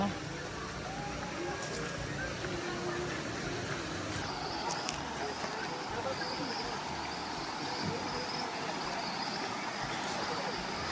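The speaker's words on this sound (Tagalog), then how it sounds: "Kakalibot po namin kami nakarating na dito sa may sapa." A creek flows steadily at Binuang, a soft continuous wash of moving water heard at moderate distance with faint outdoor ambience and no clear talk.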